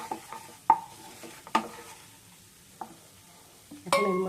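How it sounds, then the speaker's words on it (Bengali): Flour and ground pepper stirred in a pan for butter garlic chicken: a few sharp scrapes and clinks of a utensil over a quiet sizzle, close by, then a louder burst of frying near the end. "এর মধ্যে দিয়ে দিচ্ছি গোলমরিচের গুঁড়ো, দিয়ে সেটাকে ভালো করে মিশিয়ে নিচ্ছি।"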